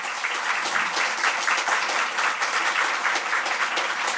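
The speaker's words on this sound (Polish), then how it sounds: "Wielkie brawa." Steady, dense applause from a conference audience greeting the Polish prime minister at an event on women's choices, sustained and even throughout with no voices on top.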